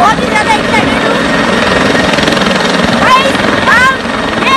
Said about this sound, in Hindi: इंजन ऑन हो चुका है। बहुत ही एक्साइटेड हूँ हेलीकॉप्टर को उड़ते हुए